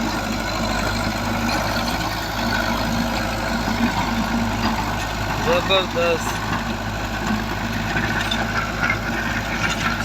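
A 2016-model Belarus 510 tractor fitted with a 66-blade rotavator from Imran Zarai Industry, Okara, idles with a steady, even drone close by while someone speaks over it.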